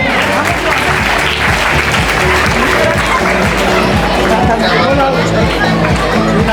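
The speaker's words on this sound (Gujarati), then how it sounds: "તાળીઓથી વધાવી લઈએ." Applause from an audience at a school prize distribution ceremony for a drawing competition, steady and loud throughout, with crowd chatter mixed in.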